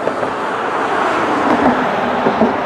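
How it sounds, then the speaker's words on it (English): Steady broadband rumble of road traffic on a busy main road in Ross-on-Wye before dawn, a continuous wash of passing cars and heavier vehicles with no pauses, fairly loud and close throughout. "I hope you can hear me for the traffic."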